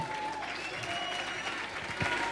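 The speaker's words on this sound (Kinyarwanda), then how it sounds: "Amashyi menshi cyane kuri Chris Eazy," An audience applauds for the performer Chris Eazy at a live comedy show, a steady close wash of clapping throughout with a faint voice beneath it.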